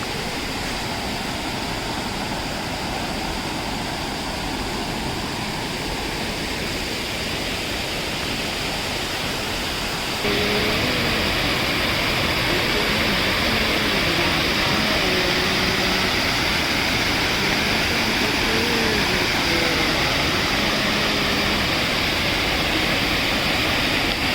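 A swollen river rushing over a small dam during heavy monsoon rain in Konkan: a constant, loud roaring wash of water that grows stronger partway through, with no voices.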